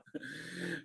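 Pet dog Lucky, happy to see her owner arrive home, gives a steady run of close, breathy panting with soft whimpering and whining mixed in, continuous for nearly a second with no talking.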